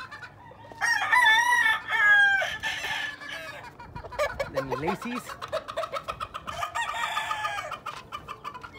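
Roosters crow loudly several times in succession, with clucking hens in between and someone speaking briefly in Spanish.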